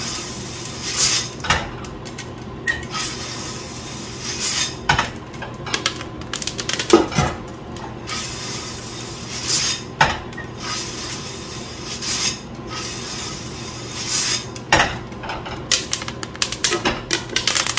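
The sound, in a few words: coffee beans popping during home roasting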